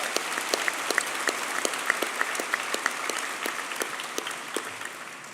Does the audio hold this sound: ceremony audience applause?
yes